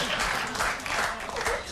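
A late-night talk show studio audience claps in a dense, sustained burst of applause, fairly even and close, with faint voices mixed in.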